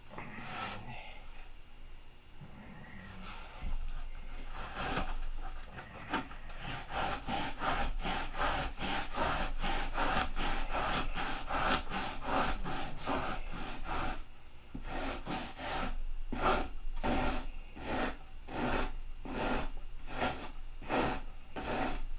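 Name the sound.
sanding wood with 40 grit sandpaper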